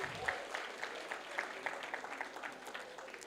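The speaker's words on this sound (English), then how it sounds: "Can we have a big round of applause for all of them?" An audience at a college alumni meet applauds group dance performers, a fairly quiet, continuous patter of clapping that fades slightly toward the end.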